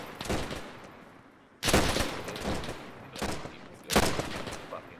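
Several sharp volleys of rifle and machine-gun fire crack out in the Arma video game during Sicily campaign infantry training, each burst loud and separated by short, quieter gaps.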